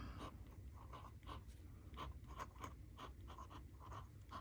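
Extra fine nib of a Pelikan M200 fountain pen, the pastel blue special edition, scratching across paper in a series of short close strokes with faint breathy pauses between words.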